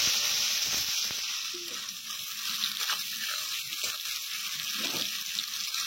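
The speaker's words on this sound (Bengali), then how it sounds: "আলু হয়ে গেছে, পাঁচফোড়ন দিয়ে দেওয়া হয়েছে, এবার পেঁয়াজ কুচি দিয়ে দেওয়া।" Chopped onions sizzle in hot oil with potatoes and five-spice in a pan, a bright, steady hiss heard up close, with a few soft stirring movements.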